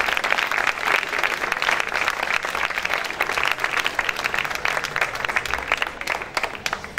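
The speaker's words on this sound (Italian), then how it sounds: "lo ringraziamo magari con un grandissimo applauso" Sustained, dense applause from an audience at a classical music concert, steady and enthusiastic throughout with no pause.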